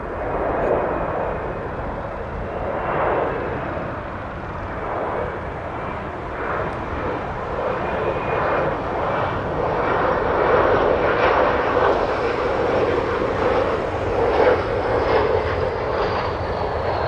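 A fixed-wing airliner landing at Toronto Pearson airport gives a steady, continuous engine roar that holds at a fairly even level and swells slightly toward the end, with no talk over it.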